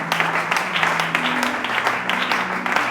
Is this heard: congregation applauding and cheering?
yes